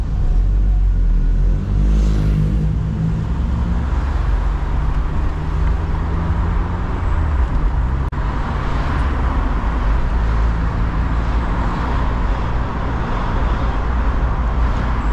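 A 1989 Mazda Miata MX5 engine revs and pulls loudly up close, a steady droning roar with rising harmonic sweeps near the start and again past the midpoint, continuous for the whole stretch with no talk.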